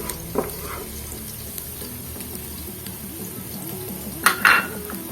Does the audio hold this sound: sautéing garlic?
yes